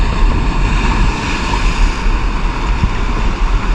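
Sea waves wash in a constant loud, broadband roar near rock formations along the shore, with wind buffeting the microphone and no talk.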